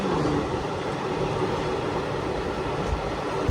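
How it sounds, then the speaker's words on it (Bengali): Inside a train running at about 120 to 130 km/h on the route from Kolkata toward Sikkim, a loud, continuous broadband roar and rumble fills everything, steady and close with no voices. "দেখতে পাচ্ছ কত স্পিড আছে ট্রেনটার, তাও 120-130 তো হবেই"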